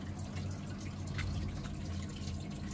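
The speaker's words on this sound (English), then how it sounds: "Okay, so it's draining out now." Water draining from a Baumatic integrated washer dryer found on the street, a steady close wash of trickling, gurgling flow with a low pump hum underneath, continuous and without speech.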